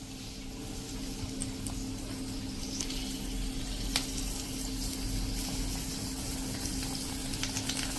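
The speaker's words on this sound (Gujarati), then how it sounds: "એને પણ આ રીતે આપણે ડીપ કરી બેટરમાં અને તળી લેશું." Chillies dipped in gram-style batter deep-fry for bhajiya in hot oil over a slow-to-medium gas flame, giving a steady close sizzle with small crackles and no talk.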